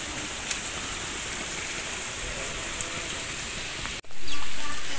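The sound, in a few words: heavy rain falling in the countryside in the afternoon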